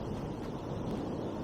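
Steady wind buffets the microphone with a low, continuous rumble, close and fairly strong, with no voices.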